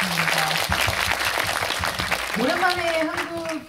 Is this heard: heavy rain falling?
no